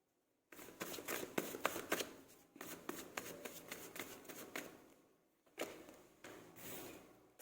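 Tarot cards being slid, shuffled and handled close up in quick rustling, flicking bursts, with brief pauses between handfuls and no talk over them.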